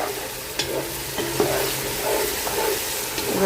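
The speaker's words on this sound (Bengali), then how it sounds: "মশলাটা দিয়ে একটু ভালো মতো কষাবো মশলাটা একটু কষাই নিলাম" Ground cumin and coriander paste being sautéed with about two kilos of meat in a pan, a steady sizzle with scraping stirs and spoon clinks repeating at an even, close pace, no voices.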